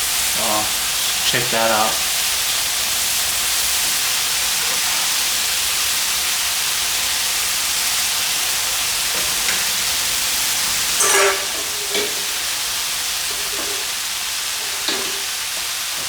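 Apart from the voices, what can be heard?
squid being stir-fried with ingredients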